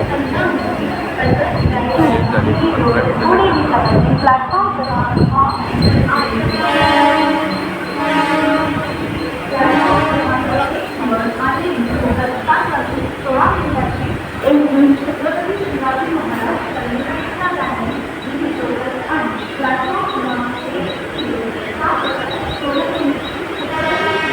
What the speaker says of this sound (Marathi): गाडी निघली